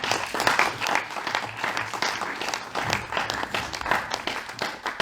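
A comedy club audience at a Paris stand-up show applauds a young comedian called up to the stage, with dense, continuous clapping that swells and dips without a break.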